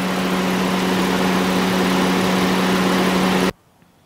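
A Honda Pilot's 3.5-liter V6 idles with the hood open, a steady, loud hum with a low droning tone that runs unbroken for about three and a half seconds, then cuts off abruptly to near silence.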